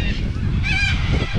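A flock of birds at a lagoon, loud honking goose-like calls close by over a steady background of bird noise.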